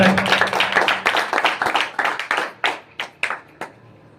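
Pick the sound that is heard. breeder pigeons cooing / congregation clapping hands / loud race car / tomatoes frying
congregation clapping hands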